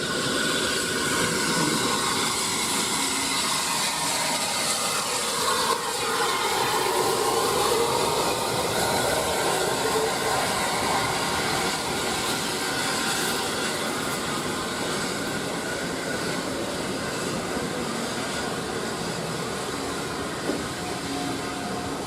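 A Pullman train arrives on the Kent and East Sussex Railway during a steam gala, rumbling steadily throughout with broadband rolling noise, rising and shifting as it draws nearer, with no voices over it.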